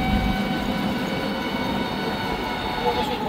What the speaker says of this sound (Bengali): যাচ্ছে মেট্রো রেল,